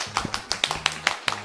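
A few people clap in small, uneven bursts of applause, light and close, in a quiet indoor space at a closed shopping centre.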